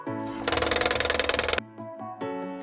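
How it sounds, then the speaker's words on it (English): A woodpecker pecks in a fast, steady burst of roughly twenty sharp taps lasting about a second, heard over soft background music. "woodpecker"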